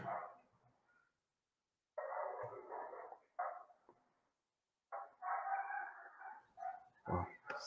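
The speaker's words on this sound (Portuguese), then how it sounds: "mas tem uns cachorros aqui bem" Several agitated dogs bark close by in loud bursts, with short quiet gaps between flurries of barking.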